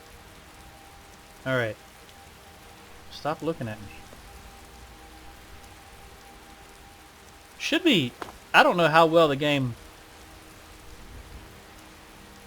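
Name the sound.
rain in the video game Skyrim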